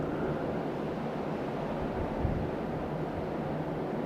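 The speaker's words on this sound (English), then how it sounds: "a place where the waves are really smashing in" Ocean waves smash in continuously on the Okinawa coast during Typhoon Dolphin, a loud, dense roar of surf and wind noise with no let-up across four seconds.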